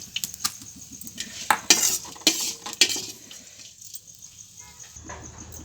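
Metal utensils clink and scrape against a bowl in a quick series of close, sharp taps while chutney is scooped in, with a faint sizzle in the background.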